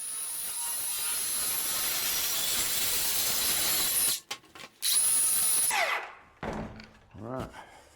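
Loud, continuous power saw cutting through wood for about four seconds, then a pause and a second short burst before it winds down, followed by a few clunks and someone speaking at close range.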